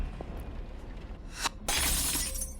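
Glass shattering in the horror game Burnhouse Lane, a sudden loud crash of breaking glass that bursts out and sprays into a bright tinkling spill, preceded by quieter handling sounds.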